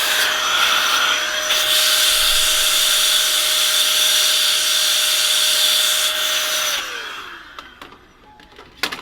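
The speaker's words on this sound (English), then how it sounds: "you can take your blower again, just in case anything didn't come out of there, and shoot it one more time" An air blower shoots loudly and steadily into a string trimmer to clear out debris, a strong close hiss lasting about seven seconds before cutting off, followed by a few faint clicks.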